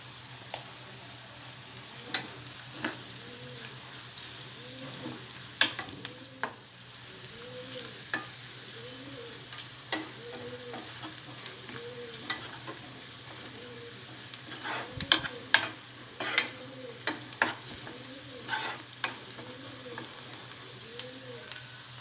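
Onions sautéing with ginger garlic paste and turmeric for a stuffed brinjal and drumstick curry make a soft, steady sizzle, with regular scraping strokes of a spatula and occasional sharp knocks against the pan, close and fairly quiet.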